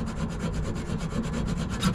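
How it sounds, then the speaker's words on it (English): A hand saw cuts through a car track rod end in quick, steady back-and-forth strokes, close and continuous, with no talking. "I'm just gonna keep cutting."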